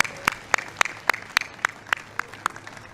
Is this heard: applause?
yes